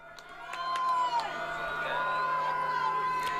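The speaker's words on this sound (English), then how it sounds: "You better believe each side is on their feet, cheering on their side" A football crowd at an Iowa Central Tritons vs Iowa Western Reivers game cheers from a distance, a broad roar under a sustained whistle-like tone with brief sharp accents.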